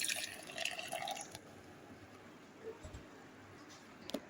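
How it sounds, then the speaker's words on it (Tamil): Milk is poured into a blender jar of ground banana for a milkshake, a soft splashing trickle at first that settles into quieter liquid sounds with a few faint drips, close and low in level. "அடுத்து நம்ம பால் ஊற்றிக்கலாம்"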